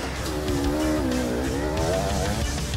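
An enduro motorcycle climbs a zigzag start hill in a race, its engine revving and rising in pitch as it strains upward, loud and close over a busy background.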